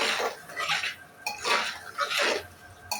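Utensil scraping and clattering in a pan while beef kala bhuna is stirred with whole garlic cloves, three loud bursts of scraping with brief pauses between, close by and with no voices.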